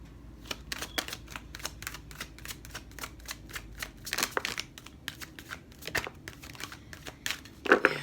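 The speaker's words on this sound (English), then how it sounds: "these cards are always so large and clunky and bulky for me to shuffle" Large, bulky oracle cards being shuffled by hand, heard as a series of soft, quiet riffling and slapping bursts at irregular intervals, with faint crinkling between them.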